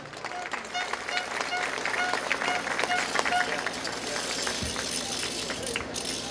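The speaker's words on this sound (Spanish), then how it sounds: "La recibimos con fuertes palmas." An audience at a provincial mayor's swearing-in ceremony in Huaura claps steadily for a newly sworn councillor, a moderately loud, even round of applause with a faint repeated tone over it, fading near the end.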